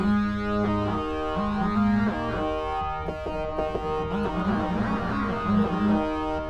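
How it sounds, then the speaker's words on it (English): A gritty, distorted Sequential Pro 3 synthesizer holds sustained chords, thick and buzzing, playing continuously at steady loudness. "Turn some of this distortion down. Some of this grunge down."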